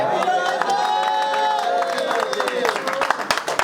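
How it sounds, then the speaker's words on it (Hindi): An audience at a stand-up comedy show claps and cheers in a dense, continuous roar, with crowd voices mixed through the applause and sharper clap transients toward the end. "एक बार और तालियां बजानी पड़ेंगी"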